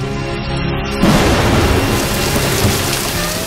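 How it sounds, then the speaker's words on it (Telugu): Heavy city rain pours down in a dense, continuous roar, and a deep rolling thunderclap bursts in partway through and rumbles on beneath the downpour, loud and close with no voices. "నగరంలో 2 రోజుల నుండి భారీ వర్షాలు కురుస్తున్నాయి"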